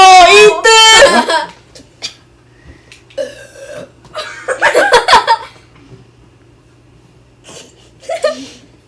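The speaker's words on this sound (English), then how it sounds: "That's a weak ass burp." A burp after chugging a drink during a family burping contest at a birthday, heard once near the start as a short loud croaking belch, followed by people talking and laughing nearby.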